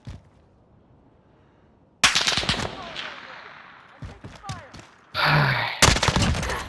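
Gunfire in the video game Call of Duty: Modern Warfare: after a quiet opening, loud rapid bursts of shots erupt and keep cracking in clusters, with heavier volleys toward the end.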